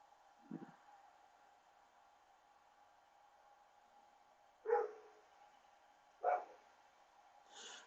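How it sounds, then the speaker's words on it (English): A dog gives a few separate barks at a distance, faint against quiet room tone, with long pauses between the sharper yaps. "There's some barking at somebody."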